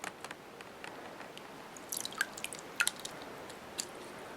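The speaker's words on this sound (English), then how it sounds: "let's go ahead now and put him in the cold water" Toy Monster Jam truck dipped into cold water, with small drips, splashes and squishy liquid sounds in scattered bursts, louder in the middle.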